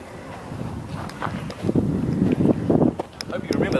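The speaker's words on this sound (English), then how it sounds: "It's a bit windy here at the pyramids" Wind gusting across open ground at the pyramids, a steady broadband rush with buffeting against the microphone, while people talk over it.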